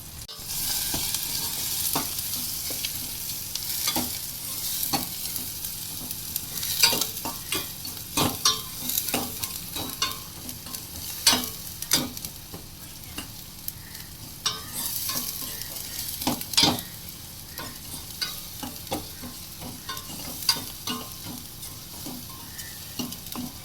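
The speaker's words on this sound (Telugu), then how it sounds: "కొంచెం సిమ్లో పెట్టి ఫ్రై చేసుకుంటే కొంచెం మగ్గుతుంది" Red chili powder and spice mix for a mango fish curry fry on a low flame, with a steady close sizzle and frequent irregular spoon scrapes against the pan, and no talking throughout.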